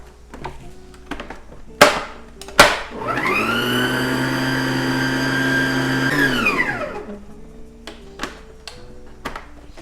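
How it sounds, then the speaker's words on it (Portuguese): A close electric mixer whirs steadily for several seconds, beating cake batter with sifted flour, framed by a few sharp knocks and clatters of the bowl before and after. "E eu vou bater um pouco para dar uma misturada"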